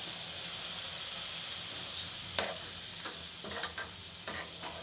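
Ridge gourd curry with milk simmers and sizzles in a pan, a soft, steady bubbling hiss broken by a few sharper scrapes of stirring in the second half, close but fairly quiet.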